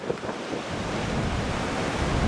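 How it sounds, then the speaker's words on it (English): A strong gust of wind blows across a lake in the New Hampshire mountains, a loud continuous roar that buffets the microphone and builds slightly as it goes. "Huge gust of wind."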